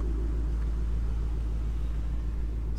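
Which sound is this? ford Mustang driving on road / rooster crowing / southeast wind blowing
ford Mustang driving on road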